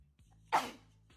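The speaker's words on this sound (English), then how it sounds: "Check out this thread of people with different sneezing styles" A single short sneeze bursts out sharply mid-clip, fairly close, with faint low background tones around it.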